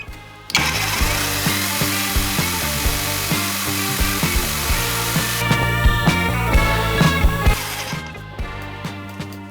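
A YamaMoto cordless chainsaw runs continuously with its chain being oiled, a loud, even motor whine with a steady rhythmic chatter from the chain, close by and uninterrupted by voices.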